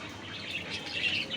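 Two young budgerigar chicks chirping in a backyard garden, a steady wash of soft high-pitched tweets and chatter, close by and moderately loud, with no talking.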